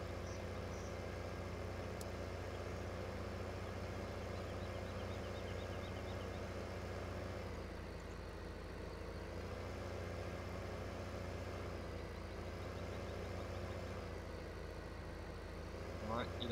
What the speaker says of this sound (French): Le tracteur il peine un peu là.